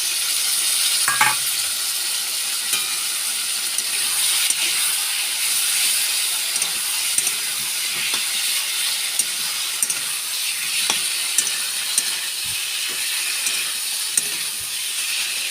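Ginger and cumin paste frying in a pan for a rohu fish curry, a steady bright sizzle with occasional stirring scrapes and clicks, close and continuous without talk.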